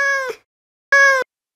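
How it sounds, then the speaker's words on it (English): Two short tonal meows from a Minecraft cat, close and clean, separated by a brief silence. "what better way to replicate that than with a cat meowing?"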